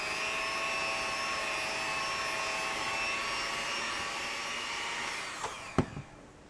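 An electric mixer beating pumpkin cheesecake batter with eggs, a steady high whirring drone that runs for several seconds before a few knocks and a clack as it stops, with no voices.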